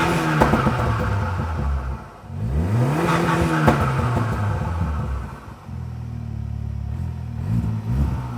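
An Audi S1 fitted with a custom exhaust revs hard several times, loud and close, with rising and falling blips, a brief dip between pulls, then a rumbling idle and further revs.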